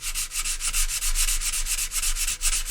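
Puttied wood on an instrument is sanded back by hand with quick, continuous back-and-forth strokes, close and steady with no talk.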